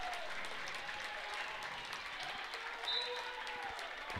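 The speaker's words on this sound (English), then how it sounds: "Madison Hilton is going to get a standing ovation from this Washington County crowd." Applause from a Washington County crowd giving a player a standing ovation at a Region 5 high school volleyball tournament, steady dense clapping with cheering that holds at one level throughout, heard from a distance across the gym.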